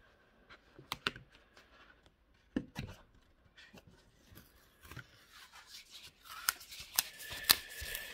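Scissors snip through Craftex vegan leather in a series of short, crisp cuts, sparse and quiet at first, then quicker and denser toward the end, heard up close with no talking.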